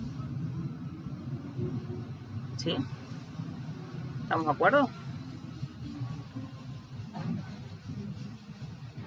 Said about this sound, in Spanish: está justo el camión de la basura haciendo un escándalo ahí afuera